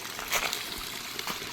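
Water poured from a container onto the base of a lemon tree outdoors, a steady trickling splash with small bursts of spatter as it hits the ground, moderately close and with no voices.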